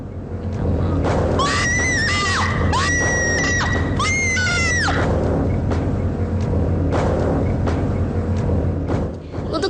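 A woman screams hysterically in several long, rising and falling shrieks over a steady low rumble and crowd noise on a haunted-location ghost-hunting TV show in Indonesia.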